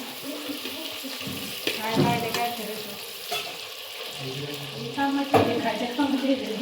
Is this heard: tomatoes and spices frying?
yes